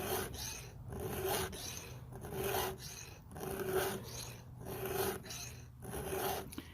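Rhythmic rasping of a hand file sharpening the chain of a CS-590 Timber Pup chainsaw, close and steady strokes about every second with brief pauses between.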